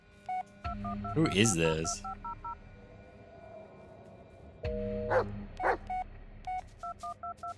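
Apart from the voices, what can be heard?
phone dialing tones in Blair Witch video game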